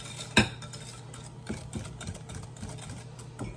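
A creamy dessert batter gets mixed in a bowl, with soft scraping and stirring strokes, one sharper clink near the start and a faint low hum underneath.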